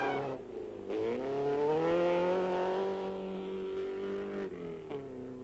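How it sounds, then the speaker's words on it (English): A Datsun rally car at the 1969 East African Safari Rally approaches with a loud engine note that climbs in pitch, holds a strong steady drone, then eases off near the end. No voices are heard. "A Datsun comes into sight."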